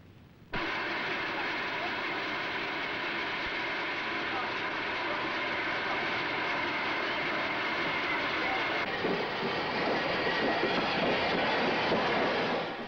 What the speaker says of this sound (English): This sturdy little locomotive, with its train of restored vintage coaches, sets out on a leisurely journey along the valley of the River Rother